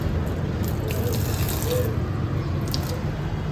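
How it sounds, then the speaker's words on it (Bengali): Water is poured onto garden plants, giving a steady, continuous splashing rush that stays level and fairly close throughout. "গাছে জল দিয়ে আসি"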